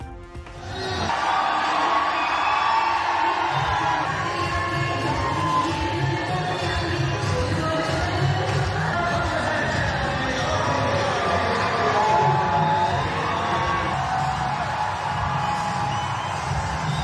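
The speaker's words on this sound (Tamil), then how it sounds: "மிடுக்குடன் வீறு நடை போட்டவர்களை கண்டு ஆரவாரம் செய்த மக்கள்." A large crowd at the Wagah border ceremony cheers and shouts continuously as women soldiers march, a dense roar of many voices at a steady loud level, some nearby whoops standing out.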